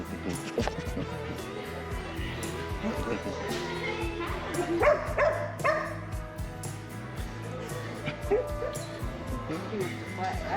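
A young puppy named Goose on his first day yips, barks and whimpers in short excited bursts, close by, with people talking softly over and around the sounds.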